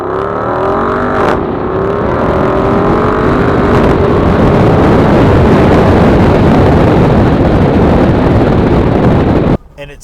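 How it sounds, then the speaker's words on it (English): Jeep Wrangler 392 V8 in Off-Road Plus roaring hard under throttle through upshifts, loud and close with heavy wind rush, the engine pitch climbing, dipping at a shift, then climbing again before cutting off abruptly at the end. "you nail the gas pedal, you're going to get the braps on your upshifts"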